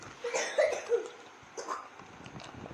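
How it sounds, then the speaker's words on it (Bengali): A few raspy coughs close by, one short burst followed by a quieter second round, against a hushed room. "এত কাশি হয়েছে কি করে সকাল সকাল?"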